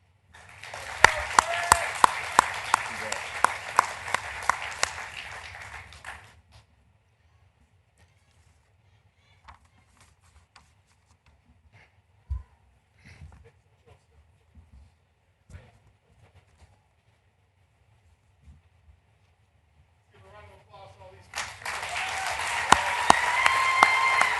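Audience applause at a Navy high school enlistee recognition ceremony in Dallas: a burst of clapping at the start, a quiet stretch with scattered small knocks, then clapping swells again near the end.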